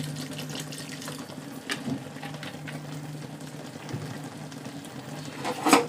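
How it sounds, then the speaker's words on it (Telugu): Water runs steadily from a tap into a pan of dried shrimp and stuffed brinjal curry, a continuous close splashing flow with a brief louder clatter at the end. "కావాలంటే మరి కొద్దిగా వాటర్ అయితే యాడ్ చేసుకుందాం."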